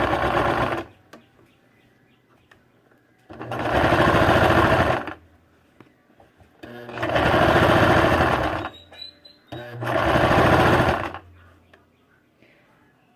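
A sewing machine stitches a seam in baby leggings in three long, steady whirring runs with quiet pauses in between, close and loud.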